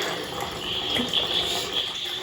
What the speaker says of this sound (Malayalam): അമ്മ വാർക്കുന്നുണ്ട് കേട്ടോ.